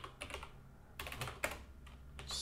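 Keyboard typing at a computer while a software build pipeline is renamed: bursts of quick close keystrokes, pausing between clusters, alone with no speech.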